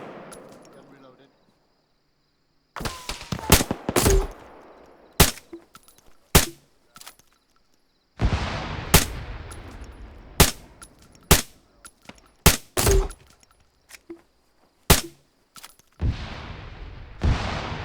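A PKT machine gun fires bursts at incoming vehicles, including BTRs, in a combat setting: repeated loud, sharp multi-shot bursts with gaps between them, preceded by a quieter stretch of low background noise.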